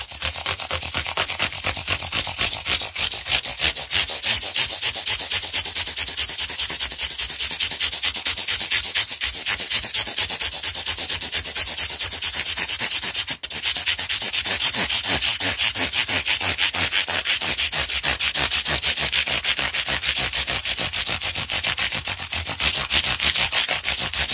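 Fine 600 grit sandpaper rubs back and forth over the metal frets of a Squier Telecaster Standard guitar in a continuous, even, rapid scraping rhythm, loud and very close, with no talking.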